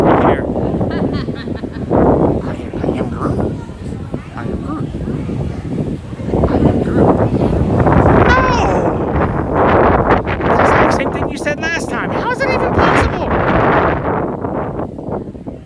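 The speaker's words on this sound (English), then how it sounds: "got some wind. Windy, windy, windy." Gusting outdoor wind buffets the microphone with loud low rumbling bursts that rise and fall, while a person talks through the wind noise.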